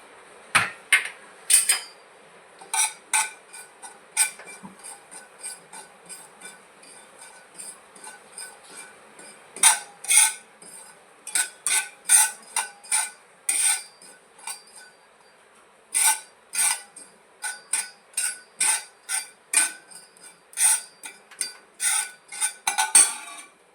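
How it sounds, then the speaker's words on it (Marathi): Poppy seeds dry-roasting in a hot pan, with a steady run of sharp metallic scrapes and clinks as a spatula stirs them, close and fairly loud, with no voices. "आता आपला पॅन चांगला तापलेला आहे खसखस भाजून घेऊयात"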